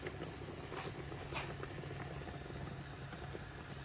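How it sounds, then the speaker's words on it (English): Nigerian bitter leaf soup (ofe onugbu) boils in a pot, giving a steady low bubbling simmer that stays even throughout, fairly quiet and with no voices. "so allow it to boil"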